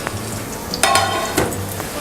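A spoon stirs cooked Tamil Muslim wedding-style biryani in a pot, giving a few close scraping strokes over a soft, steady sizzle.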